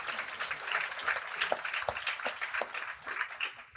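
Scattered audience clapping at a housing summit panel, fairly soft and uneven, with individual claps standing out against a low room murmur.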